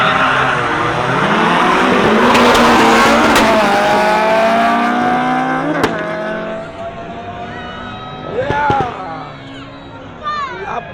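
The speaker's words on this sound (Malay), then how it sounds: "Volkswagen MK6 dengan Honda EG." Volkswagen MK6 and Honda EG drag cars at a drag racing event in Songkhla, engines revving and roaring loudly with a brief tyre squeal, over crowd noise and a nearby voice talking.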